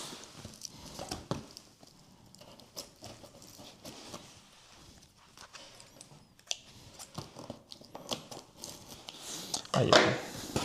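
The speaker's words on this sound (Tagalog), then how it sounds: "Mag-ingat sa paggamit ng gunting." Scissors cutting open the packaging of a Unicity product during an unboxing, heard as close, irregular crisp snips and crinkles amid rustling.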